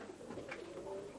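Tippler pigeons coo softly in a loft, a faint, low, rolling call swelling briefly in the middle, with no voices over it.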